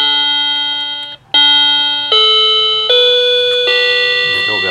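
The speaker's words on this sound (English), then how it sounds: "The doorbell should work reliably." A wireless electronic doorbell chime plays a melody of several ringing tones, each note held briefly before stepping to the next, loud and nearby.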